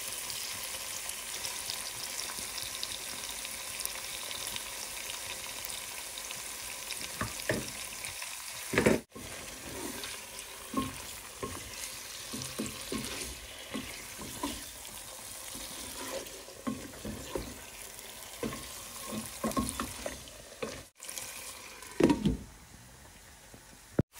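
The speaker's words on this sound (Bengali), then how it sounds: "এটা মাংসগুলো দিয়ে দিচ্ছি।" Meat frying in spiced masala and stirred, giving a constant close sizzle with irregular scraping and clattering of a spoon in the pan, fairly quiet, with brief pauses.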